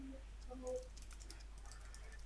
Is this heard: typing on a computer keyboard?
yes